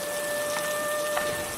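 A steady wash of falling rain with faint droplet patter, as a cartoon sound effect, continuous and even for a brief stretch with no voices.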